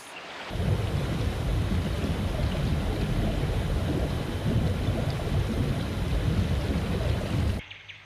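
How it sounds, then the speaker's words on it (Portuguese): Heavy tropical rain pours down in a rainforest with rolling thunder, a dense, steady roar that stays loud and constant for about seven seconds before cutting off abruptly. "Pesadas chuvas tropicais caem quase todos os dias, criando rios turbulentos."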